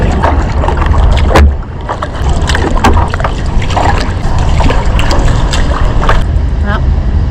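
Kayak paddling on Lake Geneva, with steady water sloshing and splashes from the paddle strokes under constant wind noise, close to the microphone, plus a few faint voices.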